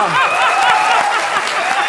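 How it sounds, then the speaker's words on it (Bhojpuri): A short burst of clapping and cheering from a crowd, dense and close, lasting a couple of seconds over a bright musical background. "वेल डन तालियां होनी चाहिए"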